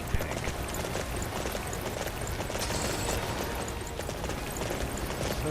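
A horse gallops in the Dynasty Warriors 9 video game, its steady clip-clop hoofbeats running continuously over a dense, loud battlefield din with no one speaking.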